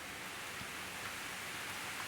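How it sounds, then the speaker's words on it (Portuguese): Rain just beginning to fall makes a steady, even hiss with no breaks, filling the space evenly at a moderate level, and no one speaks over it. "barulhinho de chuva gostoso"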